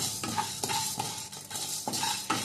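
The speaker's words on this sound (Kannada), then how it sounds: "ಉದ್ದಿನಕಾಳನ್ನು ಚೆನ್ನಾಗಿ ಫ್ರೈ ಮಾಡುವ" Urad dal fries in a pan for homemade sambar powder, a soft crackling sizzle punctuated by quick metallic scrapes and taps of a spoon stirring the lentils, close up with no talking.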